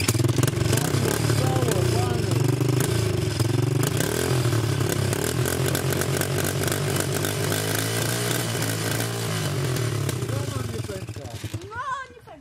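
A Loncin enduro motorcycle engine runs loud and close, a continuous rumbling roar with rising revs that cuts off abruptly near the end, with voices faintly underneath.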